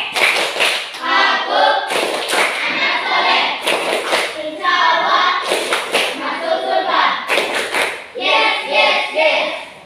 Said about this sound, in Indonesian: Ayo, kita tepuk kanan sore dulu. Tepuk kanan sore.